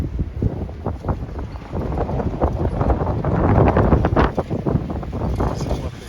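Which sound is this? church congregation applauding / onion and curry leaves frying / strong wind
strong wind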